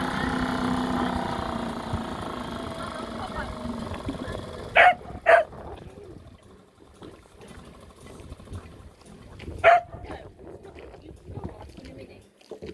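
A dog barks from a boat on the water: three sharp barks, two close together and one a few seconds later, ringing over a steady outdoor drone, with people talking faintly before them.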